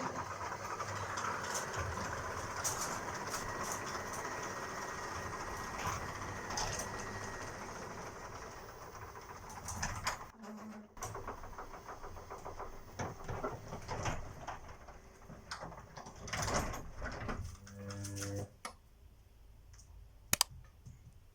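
A Chamberlain garage door motor runs at low volume, with a steady hum and mechanical clicking that fades and shifts partway through, then occasional clicks near the end.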